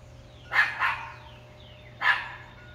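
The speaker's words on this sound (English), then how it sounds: "Sorry about the dog." A dog barks three times, two quick barks close together followed by a single bark after a pause, moderately distant outdoors beside a backyard pool, with a steady low hum underneath.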